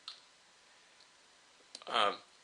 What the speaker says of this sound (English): you can delete a line just by clicking on one of these and hit delete